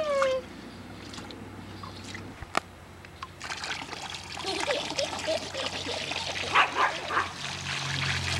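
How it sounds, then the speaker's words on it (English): Water splashes and trickles in a small wave pool, light irregular sloshing that grows busier toward the end, with brief sharp knocks and a voice in the background. "Splash, splash. Splash, splash. I splash you."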